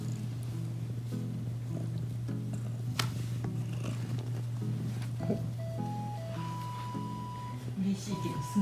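A cat purrs with a steady low rumble right up close after its owner returns from a long absence, continuous under soft rustling and occasional faint background sounds.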